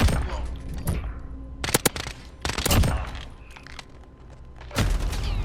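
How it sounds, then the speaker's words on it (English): Burst-fire pistol shots in Modern Warfare, several sharp loud bursts in quick groups spread across the moment, with booming low tails between them. "pistol's really not lacking with burst fire"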